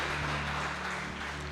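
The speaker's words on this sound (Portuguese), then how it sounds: "Aplauda o nome dEle, aplauda o nome do Senhor" Congregation applauding during a Portuguese-language evangelical church service, a steady dense wash of clapping over a low sustained hum, moderately distant and continuous without speech.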